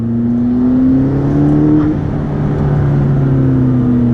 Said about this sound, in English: You hear the blow-off valves or diverter valves going off in the engine